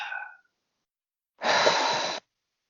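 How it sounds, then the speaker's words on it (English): A person takes a breath: a short exhale tails off, then after a pause comes one close, clear inhale lasting under a second, with no talking. "Take a breath."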